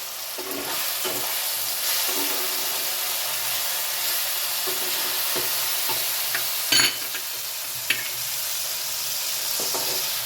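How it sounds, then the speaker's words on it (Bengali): Kasuri methi dropped into hot oil for a rajma curry, sizzling and frying steadily with a soft continuous hiss, occasional stirring scrapes and a couple of sharper clinks against the pan. "আমি তেলের ওপরে কস্তুরি মেথিটা দিয়ে দিলাম"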